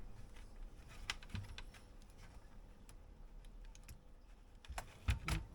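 Typing on a computer keyboard: a faint, irregular run of light key clicks with a few sharper taps near the end, with no talking.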